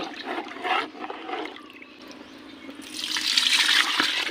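Diluted sugarcane molasses is poured into a bucket of fish for a fish fertilizer mix, a splashy liquid pour that comes in bursts, then swells into a louder, steady gush.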